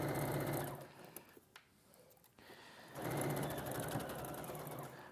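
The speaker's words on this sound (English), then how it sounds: "I'm just going to sew across there" A sewing machine stitches across a seam with a fast, even whirring run. It slows and nearly stops midway, then starts again and runs steadily, fairly faint and with no talking.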